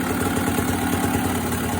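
A 1997 Honda CR250 two-stroke dirt bike, fitted with an FMF Power Core 2 silencer, runs for the first time after restoration, its engine a steady, close, loud buzzing drone that holds even throughout.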